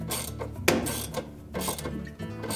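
A ratchet wrench tightens the agitator bolt on a Whirlpool washing machine during a clutch lining repair: quick, close, clicking pawl strokes in a short metallic run, with one sharper knock partway through.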